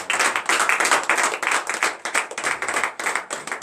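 A church congregation at morning prayer claps together in acclamation, sharp rhythmic bursts of many hands close by with short gaps between groups of claps.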